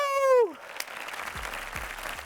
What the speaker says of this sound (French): on peut venir s'applaudir la famille